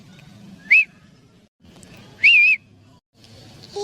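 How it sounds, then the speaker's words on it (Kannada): A man whistles in two short, loud, rising-falling bursts with a pause between, over low background chatter and murmur, with a third tonal burst starting at the end. "ಸೀಟಿ ಹೊಡ್ಯಾಕತ್ತಾನ"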